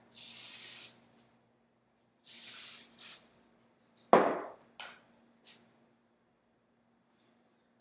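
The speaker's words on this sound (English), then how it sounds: "Give it a little spray." Several short hissing spray bursts from an aerosol can, close by, separated by pauses, followed by a few brief knocks and clatters.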